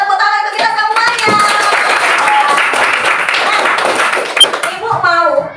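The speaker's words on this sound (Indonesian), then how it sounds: "tepuk tangan untuk kita semuanya" Applause in a primary school classroom: a dense burst of clapping from many children lasting several seconds, with voices and excited chatter mixed throughout before it fades.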